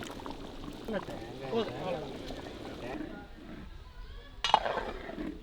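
A thick ground paste of coconut, cashew and poppy seed is poured into a cooking pot with clinks of metal and utensils, and a person talks at the same time.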